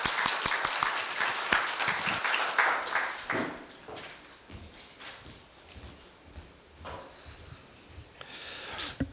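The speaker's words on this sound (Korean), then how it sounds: "자, 그럼 큰 박수로 총장님을 맞아주세요." A crowd at a university freshman lecture claps loudly and steadily to welcome the university president, the applause thinning and fading partway through before swelling again briefly at the end.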